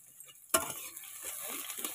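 Onions drop into hot oil in a pan with a sudden close crackle, then sizzle softly and unevenly, with faint stirring scrapes, no talk.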